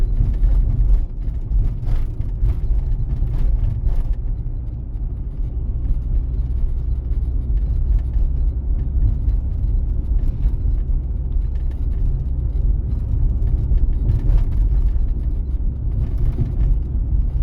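A car drives along a city road in Zhytomyr during a driving test, heard from inside the cabin as a steady low engine and road rumble with occasional bumps, and no one speaking.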